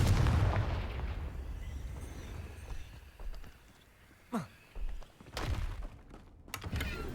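Confringo fire spell from Hogwarts Legacy blasting with a loud burst at the start that dies away, then a few sharper thuds and bangs follow over a quiet game background.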